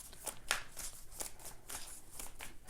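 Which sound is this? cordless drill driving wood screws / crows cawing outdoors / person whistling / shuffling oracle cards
shuffling oracle cards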